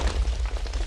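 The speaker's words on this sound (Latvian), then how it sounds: "Nu, blīn, tas un gan būs sprādziens." A Minecraft explosion bursts out as a loud, dense boom with heavy low rumble that holds steady through the whole short moment, alone with no voices over it.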